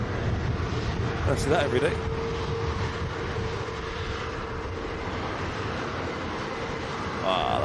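A Jet2 airliner at Manchester Airport makes a steady, loud jet engine roar that continues throughout, while people talk over it.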